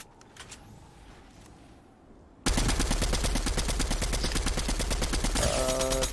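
Video game gunfire from an automatic weapon with heavy recoil: after a quiet stretch of faint background noise, a loud rapid burst of shots rattles on continuously for several seconds.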